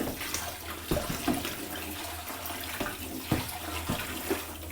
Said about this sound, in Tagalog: hugasan ko din yan. Warm to hot soapy water ang ginagamit ko para sure na malinis.